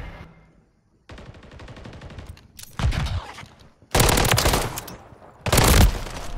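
Call of Duty gunfire comes in loud, rapid automatic bursts, starting with a fast rattling stream and then several heavy, booming volleys separated by short pauses, with no talk over it.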